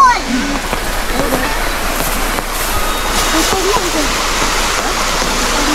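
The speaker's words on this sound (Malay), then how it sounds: "Tiba-tiba hujan datang." Rain falls at a campsite, a steady dense hiss and patter close by that continues unbroken, with voices heard faintly beneath it.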